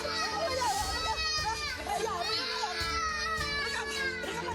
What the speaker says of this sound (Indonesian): terdengar tangisan anak kecil